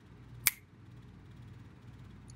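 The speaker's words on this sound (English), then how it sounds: "Snap" A single sharp finger snap used as body percussion, crisp and close, standing alone against a quiet room with nothing else following.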